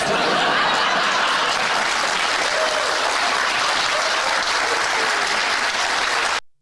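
Audience at a televised town hall applauding with laughter and chuckles mixed in, a dense steady wash of clapping lasting several seconds before cutting off abruptly.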